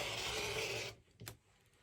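Rotary cutter slicing quilt background fabric along a ruler: a close, soft, scratchy rolling swish lasting about a second, followed by a light knock and quiet.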